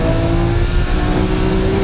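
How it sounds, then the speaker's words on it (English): A 600 horsepower GTR weighing 1.5 tons accelerates hard on a track, a loud, close engine roar rising steadily with a clear tonal whine. "The 600 horsepower GTR goes out for the impression."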